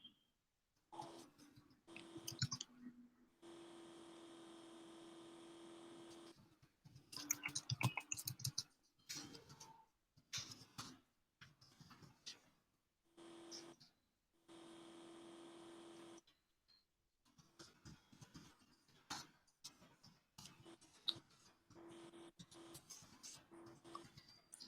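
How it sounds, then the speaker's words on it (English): Typing on a computer keyboard comes in scattered bursts of quick clicks, broken by silent gaps and by stretches of a steady mechanical buzz. "let me type it and then I'll tell you."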